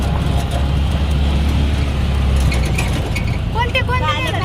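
Inside a moving auto rickshaw, a continuous low engine rumble and road noise fill the cabin, loud and close, with voices talking over it toward the end.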